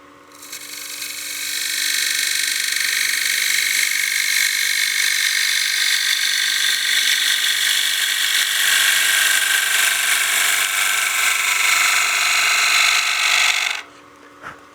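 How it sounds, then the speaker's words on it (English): Wood lathe gouge cutting steadily into a spinning wooden coin box blank, a continuous bright hiss with a faint rattling chatter as the gouge reaches farther over the tool rest, running close and loud for about 13 seconds before stopping. "Getting a little bit of chatter as that gouge is getting farther and farther over the rest"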